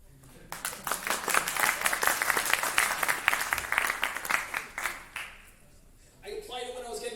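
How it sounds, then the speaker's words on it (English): An audience in Brooklyn, New York breaks into applause, a burst of many hands clapping that swells, holds for several seconds, then fades out as a voice begins speaking near the end. "You could clap for it."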